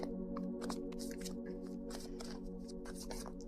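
Tarot cards are shuffled by hand in a quick flurry of soft riffling and flicking snaps, quiet and close, over a steady low background hum.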